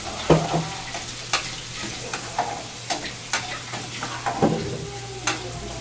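Noodles cooking on a stove beside a pot of milk being heated, with repeated sharp stirring scrapes and clanks of a utensil against metal pots over a low, steady sizzle.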